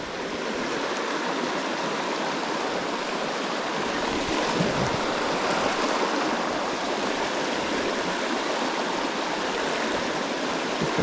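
Fast-flowing river current rushes past close by, a steady, full churning wash of water that runs unbroken, with no voices over it.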